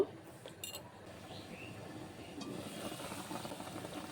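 A lid settles over a pan of simmering hilsa fish curry with a short metallic clink near the start, followed by a steady low bubbling and cooking hiss.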